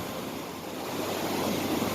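Waves wash at the edge of Cook Inlet, a steady broad surf rush with some wind, swelling a little louder toward the end.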